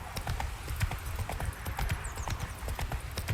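Horse hooves clip-clop in a quick, steady rhythm in The Witcher 3: Wild Hunt, close and prominent, with faint snorts over a low background rumble.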